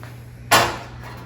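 A Changemoore pizza oven door is handled once, giving a single sharp clack midway with a short fading rattle, close and alone.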